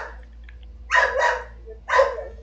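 A dog barks in a Free Fire and Fortnite game session, a few sharp, clear barks in quick succession over a low hum.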